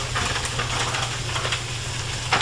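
Frozen scallops hit a hot frying pan with a steady, close sizzle and hiss, a faint clatter near the end.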